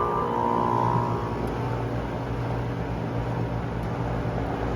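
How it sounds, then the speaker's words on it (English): Home HVAC condenser fan motor spinning up and running steadily, a continuous broadband whoosh with a low motor hum, close and fairly even in loudness throughout. "Now the fan begins."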